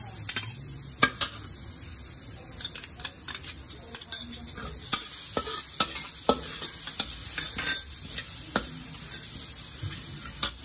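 Garlic fries in a pan, giving a soft continuous sizzle punctuated by frequent sharp clinks and scrapes of a utensil stirring against the cookware.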